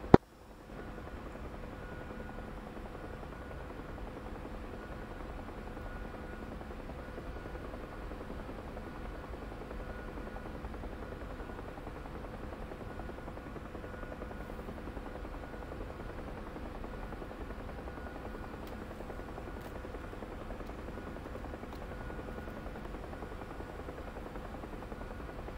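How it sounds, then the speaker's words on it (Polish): A steady, droning rotor and turbine hum from UH-1H Huey helicopters in flight in the DCS World simulator, continuous and unbroken throughout without voices. "Cztery śmigłowce, 5 śmigłowców UH-1 po starcie."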